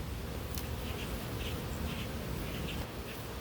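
Honeybees buzzing close by at a hive entrance, a steady dense hum with individual bees droning past, continuous and fairly faint with no talking.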